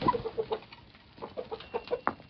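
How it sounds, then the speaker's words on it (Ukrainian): Several chickens cluck nearby in short, repeated bursts, with one sharper squawk near the end. "Діждалися своєї черги кури. Виходьте."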